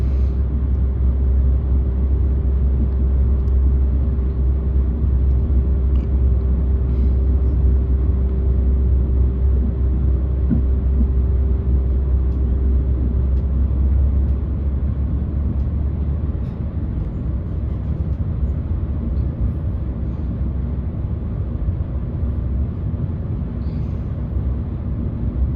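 Heard from on board, a train pulls away from Huntley station in Scotland with a continuous low rumble and engine drone, a steady hum fading partway through as the ride settles into a constant noise.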